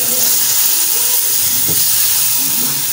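Chopped frozen tomatoes hit a hot pan while making restaurant-style aloo gajar, giving a loud, steady steamy hiss that fills the whole moment without letup.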